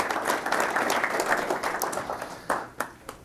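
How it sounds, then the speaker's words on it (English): Attendees at a football coaches clinic applaud in a dense wash of clapping that gradually thins out into a few last scattered claps. "a round of applause again for them"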